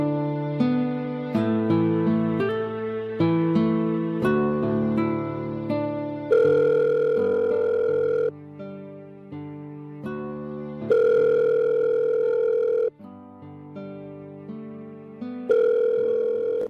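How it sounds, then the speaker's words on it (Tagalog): Ringback tone of a cellphone call placed to someone, a steady electronic melody of repeating tonal phrases in separate bursts, fairly loud and alone with no voices. "Kinuha ko ang cellphone ko at tinawagan si Deo."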